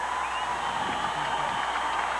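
Arena crowd at a 1988 USHRA Winter Nationals monster truck show in Kansas City, Missouri, cheering with a sustained wash of roaring noise after the Bigfoot versus Bearfoot duel, no voice standing out.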